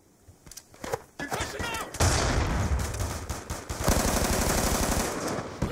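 Automatic and rapid gunfire from Call of Duty Black Ops 2 erupts in bursts and then sustains a dense, loud, continuous rattle, with a voice talking over the opening moments.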